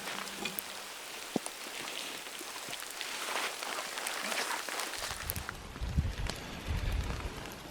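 Ice pellets patter steadily on surfaces around a spring canoe campsite in Algonquin, a dense, faint hiss of tiny impacts with a low rumble joining near the end.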